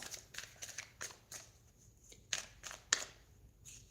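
A deck of tarot cards being shuffled close by, with soft riffling and sharp flicking snaps at irregular intervals, fairly quiet, with no talk.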